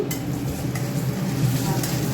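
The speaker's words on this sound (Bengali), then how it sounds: "শাকটা দেখো বাদাম ভাজতে দিয়েছি" Peanuts fry in a pan with a dense, even sizzle and faint stirring scrapes, close and continuous throughout.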